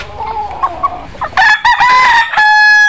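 A rooster crows loudly and nearby, with clucking from chickens before the crow.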